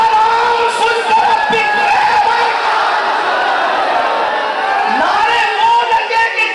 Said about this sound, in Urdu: نعرہ حضور کے غلاموں کی طرح لگنا چاہیے